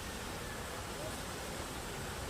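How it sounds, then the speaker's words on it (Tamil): An artificial waterfall at the Batu Caves Murugan temple in Malaysia gives off a constant, even rush of falling water, a dense and unbroken hiss heard from a moderate distance. "செயற்கை அருவி"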